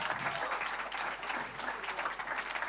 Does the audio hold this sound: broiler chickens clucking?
no